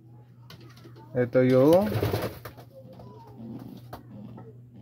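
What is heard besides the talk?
pigeons cooing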